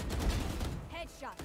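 Video game gunfire landing a headshot: a loud, dense burst of rapid shots through the first second, then quieter clipped sounds and brief game effects, with no speech.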